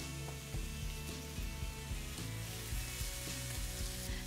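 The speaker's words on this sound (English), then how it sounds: "while our pork chops are browning in the skillet" Pork chops browning in a skillet, a continuous close hiss of sizzling fat with faint irregular clicks and pops running throughout, no one speaking.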